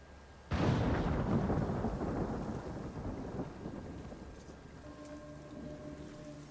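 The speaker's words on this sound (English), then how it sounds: "Really just killed this man with a lightning strike." A sudden, loud thunder crack follows a lightning strike in the video game Ghost of Tsushima, then rolls and rumbles away over several seconds amid steady rain. Faint music tones come in near the end.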